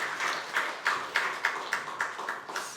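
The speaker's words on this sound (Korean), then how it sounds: "박수로 영광 돌리겠습니다" A church congregation claps in rhythmic unison during Sunday worship, about nine even, fairly soft beats at a steady tempo with a faint wash of hands between them.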